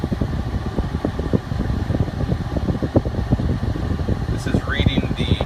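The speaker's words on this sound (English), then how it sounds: "So we'll go ahead and turn the AC on right now." Air conditioning running in an idling Jeep Cherokee Classic on a hot day, a steady whooshing fan blower over a low rapid engine pulse, close and continuous, with a brief high chirp near the end.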